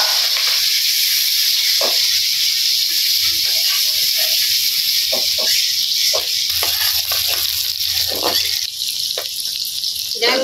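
Small fish frying with onion and green chili in a home kitchen, a loud continuous hiss and sizzle with sharp crackles and pops, while people talk intermittently underneath.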